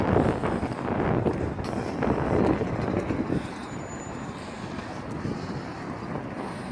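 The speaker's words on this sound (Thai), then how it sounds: "ลมพัดวอยๆอยู่" Wind blows outdoors in Helsinki, Finland, a continuous broad rushing roar buffeting the microphone, stronger in gusts early on and then easing to a steady lower rush, with no talk.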